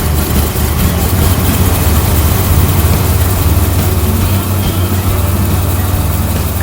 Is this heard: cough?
no